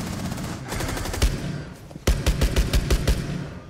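Rainbow Six Siege gunfire on console: a scattered opening volley, then a clean run of about eight rapid, evenly spaced sharp shots, loud and close, with no talk over them.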